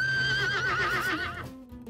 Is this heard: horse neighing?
yes